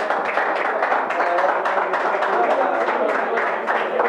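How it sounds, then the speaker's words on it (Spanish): Sustained applause and clapping from a crowd at a national final of a competition, honoring the second-place finisher; dense, steady clapping with crowd noise throughout. "Un fuerte aplauso para Leonel"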